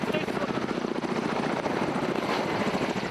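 Firefighting helicopter of an aerial forest-fire crew flies overhead during a mountain wildfire, its loud continuous rotor thump steady throughout with voices faintly underneath.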